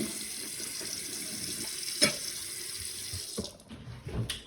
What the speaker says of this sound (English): I'll rinse it out with a good old dirty sink water.